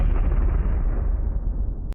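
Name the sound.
firecracker going off in school hall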